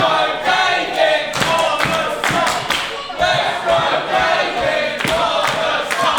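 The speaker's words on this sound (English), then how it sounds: "The crowd firmly behind David Francisco, letting Connor know what they think of him" A crowd at a live Mighty Pro Wrestling show in Addington cheers for David Francisco against Connor Mills, a loud, continuous roar broken by sharp claps and thuds, with a commentator's voice running over it.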